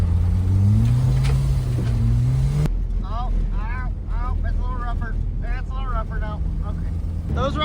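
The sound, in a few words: project car Benny driving from tarmac onto dirt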